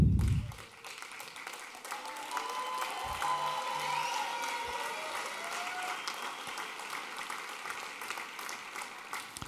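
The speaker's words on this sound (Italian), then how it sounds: "Ho sentito dove è partito l'applauso" An audience at a talk on the climate crisis applauds, a sustained, even patter of many hands clapping that continues steadily at moderate loudness after a brief opening thump.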